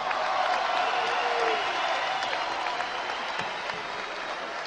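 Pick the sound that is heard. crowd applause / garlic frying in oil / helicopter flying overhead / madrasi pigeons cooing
crowd applause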